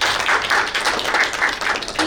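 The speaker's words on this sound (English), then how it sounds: "let's have a big round of applause for all of you" Sustained applause from a conference audience at a business event, dense overlapping claps rising and falling steadily for a couple of seconds with no voices over it.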